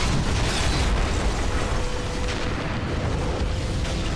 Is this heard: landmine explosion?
yes